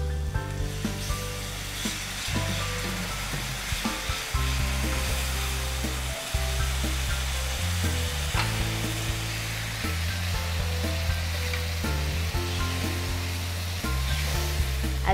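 Masala sizzles and fries in a pan for king fish pickle, a steady loud crackling hiss running throughout, broken by occasional stirring clatters, with no talk.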